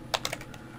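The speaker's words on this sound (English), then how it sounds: "So I'm typing in Redshift." Three quick, crisp keystrokes on a computer keyboard, close and fairly quiet, followed by near silence with no voices.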